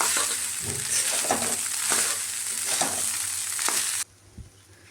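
Homemade fried rice stirred and tossed in a pan over a high flame, producing a loud, dense sizzle with rhythmic scraping strokes up close, then cutting off abruptly near the end.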